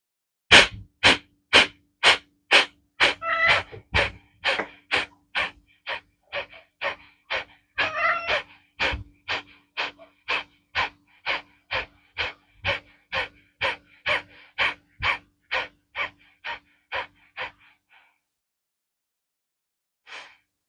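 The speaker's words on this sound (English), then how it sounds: "Do you not like this sound of panting?" Quick, rhythmic panting breaths from a yoga breathing exercise, about thirty sharp exhalations in an even, steady pulse that stop abruptly, followed by a single faint breath after a pause.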